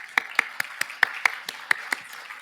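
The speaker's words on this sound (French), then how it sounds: "on vous applaudit" Sparse applause from a conference audience: a handful of sharp, separate claps spaced roughly evenly, moderately close and fading quickly, with no voices over them.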